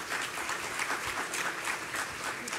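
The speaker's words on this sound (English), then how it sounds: "Can we give them a round of applause, please?" Audience applause for the panel at a domestic violence community resource fair and symposium, a steady crowd clapping that stays even and moderately near for a few seconds with no speech over it.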